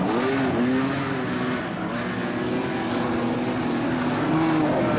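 Modified sedan race cars roar around the dirt oval at Kingaroy Speedway, several engines droning and rising in pitch together as they race, a steady close rumble filling the whole stretch.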